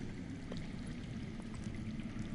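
Underground water flowing in the Game of Thrones video game, a faint steady murmuring stream heard alone as a low continuous wash.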